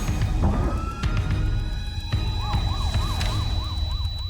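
An ambulance siren wails in rising and falling cycles amid jammed Indian city traffic, loud and close, with engine rumble and scattered horn honks around it.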